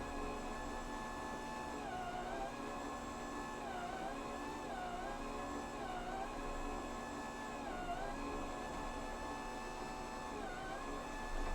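Dash bread maker running its mix-and-knead cycle, a steady mechanical whine with slow rising and falling tones repeating every couple of seconds, close and continuous with no talking.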